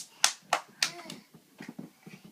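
A 13-month-old toddler claps hands three times in quick, sharp succession, then quieter voices talk in the background.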